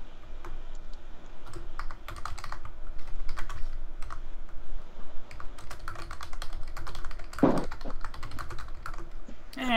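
Rapid, uneven keystrokes on a computer keyboard clatter steadily for about ten seconds during a Minecraft Hunger Games session, with a louder thunk near the end and faint background noise throughout.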